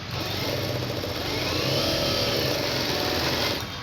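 A sewing machine stitching the second seam of a blouse lining runs in a steady, continuous whir for about four seconds, close and loud, with no voice over it.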